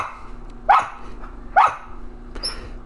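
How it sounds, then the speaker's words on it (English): Lucha the dog barks twice in sharp single woofs about a second apart over a low background hum, and a faint high electronic beep follows. "he's just barking like mad."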